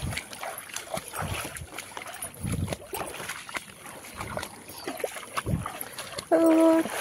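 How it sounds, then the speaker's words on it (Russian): Water sloshes and splashes against a small boat as it is brought to a pier, with scattered knocks and a brief engine-like hum near the end. "Ведем лодку к причалу."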